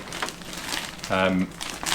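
Plastic bag crinkles and rustles in a brief loud burst near the middle as a Toyota LC70 pickup RC body is unboxed, with a person talking before and after.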